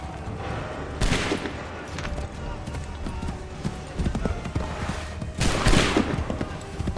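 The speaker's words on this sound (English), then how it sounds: "Open fire!" Musket volleys crackle in Assassin's Creed III, two bursts of massed gunfire about four seconds apart, with horse hooves clopping and battlefield noise between them.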